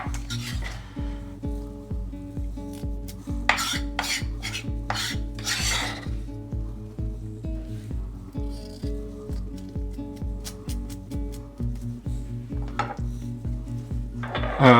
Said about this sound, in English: I combine all of ingredients